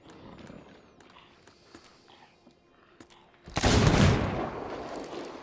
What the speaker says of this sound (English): I got 3 fucking jackasses shooting at me